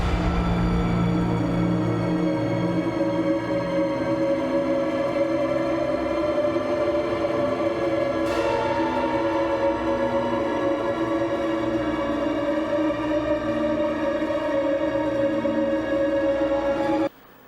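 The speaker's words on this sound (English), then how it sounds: "make horror textures and string risers using nothing but guitar and Neural" Guitar run through the Neural DSP Archetype Nolly plugin, layered into horror-film textures and string-like risers: a dense, sustained drone of stacked tones that holds steady throughout, with a brief bright swell near the middle and an abrupt cutoff at the end.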